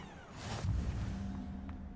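A cat in the video game Hogwarts Legacy gives a short, soft meow, heard faintly over quiet game ambience.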